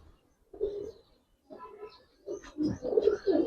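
Pigeons cooing close by in soft, low, rolling phrases, three separate bursts with short pauses between, the last one busier and louder.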